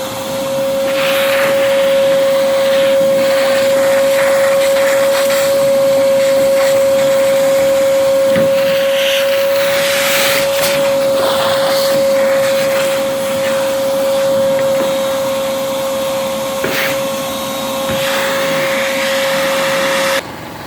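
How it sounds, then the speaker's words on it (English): Shop vacuum running steadily and loud for the whole stretch while cleaning out a truck bed before priming, a constant whine with shifting suction noise as the nozzle moves. "we're going to start vacuuming this up"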